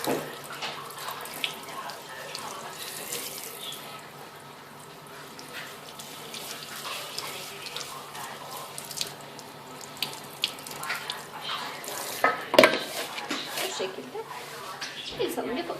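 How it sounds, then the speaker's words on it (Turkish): Tap water runs steadily over hair at a salon wash basin during a rinse, a continuous splashing hiss with small irregular splatters, close by and moderately loud. "durulama işlemini yapıyorum"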